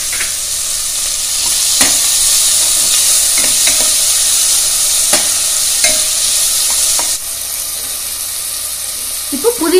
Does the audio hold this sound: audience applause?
no